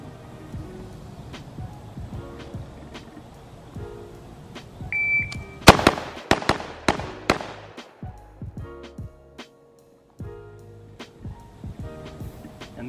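Rifle shots fired in a box drill, two to the chest and one to the head on each of two targets, heard as a quick volley of sharp, loud cracks in the middle with quieter range noise and a beep around them.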